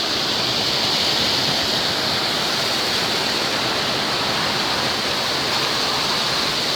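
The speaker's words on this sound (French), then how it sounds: "Entendez le bruit magnifique de l'eau, c'est rafraîchissant." Rushing water pouring at a watermill, a steady, loud, dense roar like a small waterfall that holds constant throughout with no voices.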